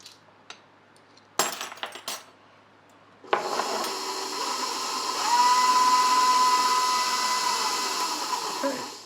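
A few clinks and knocks, then an electric mixer starts up and runs steadily and loudly, blending real lime juice into margarita cupcake batter.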